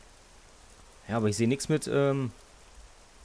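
Steady rain hiss in the video game Arma 3 (Exile mod) runs faintly under a stretch of close male speech in German.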